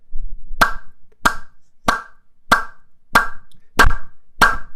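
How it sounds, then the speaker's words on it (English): Seven Moroccan-style hand claps with the hands spread and palms cupped, sharp, resonant, evenly spaced strikes about two thirds of a second apart, close and alone in a quiet room. "I do the Moroccan clap, which is kind of spread my hands out"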